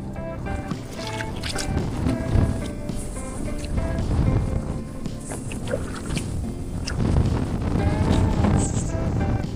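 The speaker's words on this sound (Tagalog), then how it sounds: "Yan, lakas ng hangin." Strong gusts of wind buffet the microphone in loud, uneven bursts over the churning noise of a fishing boat on water.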